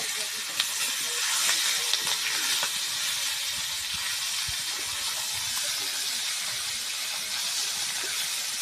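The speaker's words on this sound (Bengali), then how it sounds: "5 মিনিট পর সব মাছগুলো একটু ভাজে নিন" Snakehead fish pieces fry in oil, making a continuous soft, even hiss throughout, with a couple of faint clicks early on.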